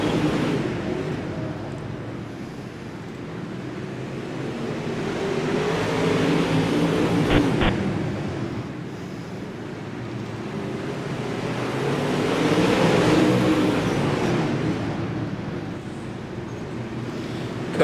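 Several race cars running a 10-lap race, their engines blending into a steady, wind-like roar that swells twice as the pack passes, with a brief sharp click in the middle and no voices.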